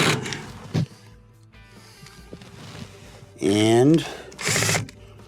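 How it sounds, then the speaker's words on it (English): A 5/16 screw is driven into a clip holding the motor of a KitchenAid washer, giving two short, close whirring bursts of a powered driver near the end, with a brief word spoken earlier. "Now we can reinstall the screws that hold the clips on the motor."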